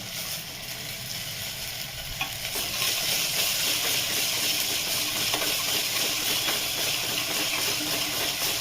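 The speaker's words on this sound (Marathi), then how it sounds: "आता कांदा छान परतला आहे. टोमॅटो टाकून घेते." Onion and tomato sautéing in a pan for a gram-dal curry, giving a steady close sizzle and hiss with occasional stirring scrapes, growing a little louder after the first few seconds.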